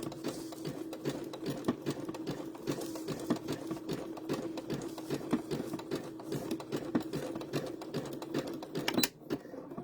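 A sewing machine stitching appliqué around a fabric leaf on an apple design for a dish towel, a steady fast mechanical whir and rapid needle clatter running nearly throughout, close by, with a brief pause near the end.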